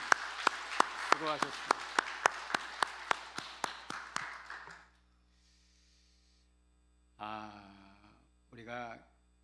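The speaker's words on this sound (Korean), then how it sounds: "우리 같이 하나님께 영광의 박수 올려드리겠습니다" A church congregation claps in rhythm at a Sunday worship service, about a dozen evenly spaced claps over a crowd wash, then it fades to near silence before someone speaks briefly twice.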